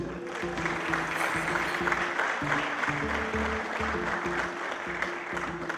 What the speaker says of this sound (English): Please give another round of applause, please.